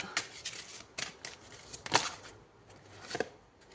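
A tarot card is drawn and handled from the deck, a few soft papery slides and snaps in short bursts, close and quiet, with a sharper flick near the middle.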